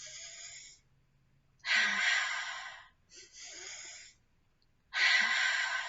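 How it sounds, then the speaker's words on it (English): Slow, deep breaths drawn in and let out during a guided meditation tension-release exercise, three long airy breaths at close range, separated by quiet pauses, with no talking over them. "Inhale, exhale, inhale, exhale,"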